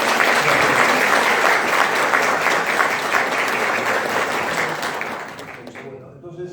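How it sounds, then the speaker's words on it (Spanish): Audience applause after a formal lecture on contracts between spouses, a dense, steady clapping from a hall crowd that holds strong for about five seconds, then thins out and fades near the end. "Primero, le aplauso."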